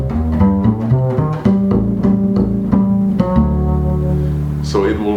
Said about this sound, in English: So I might play a minor 7 chord